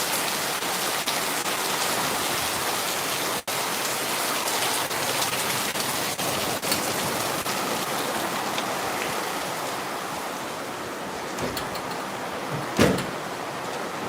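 Steady heavy rain hisses and patters continuously on surfaces nearby, with a couple of faint knocks partway through.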